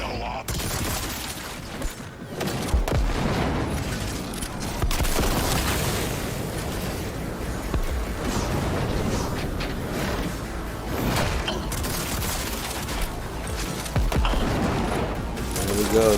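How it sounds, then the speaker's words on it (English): Adam Smasher unleashing missile barrages all around in a Cyberpunk 2077 boss fight: dense, continuous loud explosions, booms and mechanical clatter for the whole stretch, with no let-up. "phase right here where he starts shooting these missiles all around everywhere"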